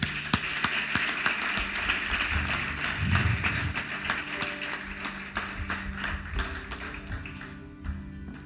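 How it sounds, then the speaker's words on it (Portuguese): A church congregation applauds together, a dense steady clapping with a few sharp taps standing out, continuing loudly for the whole stretch and thinning slightly near the end. "Você pode aplaudir a Jesus por isso?"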